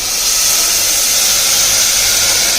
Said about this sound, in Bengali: ধুয়ে রাখা ডাল, এবার দিয়ে দিচ্ছি জল।